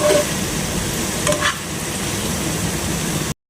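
Paneer cubes frying with pepper powder while being stirred, a dense close sizzle with a few spatula scrapes, cutting off abruptly at the end.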